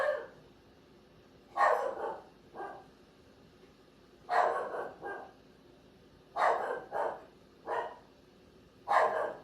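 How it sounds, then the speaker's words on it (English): A dog barks in four bursts of two or three loud, sharp barks each, separated by pauses of a second or more, close by in a quiet room. "now my dog is going off"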